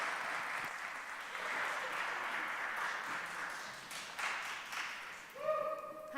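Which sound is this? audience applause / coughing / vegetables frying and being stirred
audience applause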